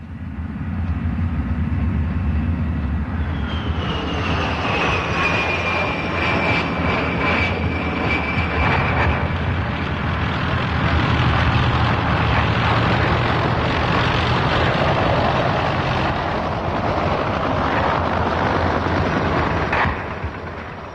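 Military aircraft roar through a NATO exercise, a loud, sustained engine rumble with a descending whine as a jet passes, the powerful drone continuing unbroken for about twenty seconds.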